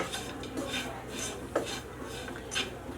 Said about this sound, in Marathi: तुम्ही वाटी आता काढून घ्यायची आहे आणि हलका असं परतून घ्यायचं आहे